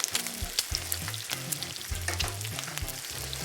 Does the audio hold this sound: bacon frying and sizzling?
yes